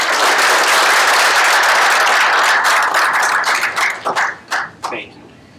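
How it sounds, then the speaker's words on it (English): Audience applause at a breakfast event, loud and dense at first from a room full of clapping hands, then thinning into a few scattered individual claps before stopping. "a round of applause for Melissa and everyone"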